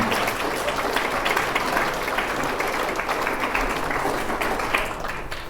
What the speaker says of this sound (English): give them a round of applause for being willing to do this